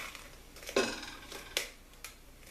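A spoon scrapes and clinks against a pot while stirring vanilla pudding, a few soft irregular knocks spread out over a quiet background.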